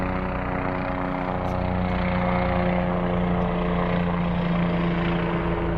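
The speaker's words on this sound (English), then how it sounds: "here comes the helicopter" A helicopter approaches, its loud, continuous rotor and engine drone holding steady and close throughout, with no talking over it.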